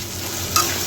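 Whole cumin seeds fry in hot oil for a Bengali dhokar dalna, a steady close sizzle with a brief bright crackle partway through.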